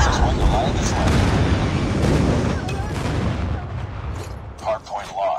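Airstrike explosions in a video game boom in a dense, rolling barrage that fades toward the end, with a few sharper blasts near the close. Game radio voices call out over the action.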